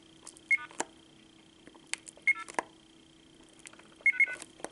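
Keypad beeps from a vintage 1990 AT&T 5500 cordless telephone: three short electronic tones spaced over a few seconds, each with button clicks nearby, with a faint steady hum underneath.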